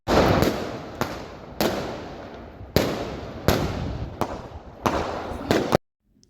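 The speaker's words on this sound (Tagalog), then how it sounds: "And meron pang natirang fireworks." Leftover New Year fireworks and firecrackers going off outdoors, a string of loud, sharp bangs each followed by a rumbling, crackling tail, about eight blasts at irregular intervals, then sudden silence.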